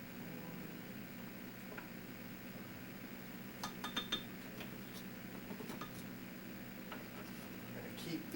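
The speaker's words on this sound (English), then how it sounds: "get out a small fork and just stir that up" A small fork stirring milk and sugar in a bowl, making faint, scattered clinks and scrapes over a steady room hum, with sparse taps clustered near the middle.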